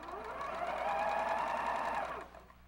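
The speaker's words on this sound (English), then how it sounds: "And we'll sew to the end." A sewing machine runs a quilt seam in one continuous burst of quick, even stitching, close and clear, then winds down and stops.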